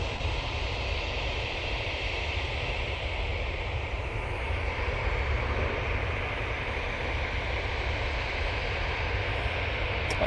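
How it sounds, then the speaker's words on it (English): KLM Boeing 737-800 jet arriving at Manchester from Amsterdam Schiphol: a continuous distant engine rumble and hiss, even and moderately loud, with no talking. "KLM 737-800 now arriving from Amsterdam Schiphol."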